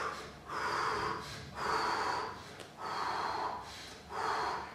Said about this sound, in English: Focus more on the exhalation than the inhalation.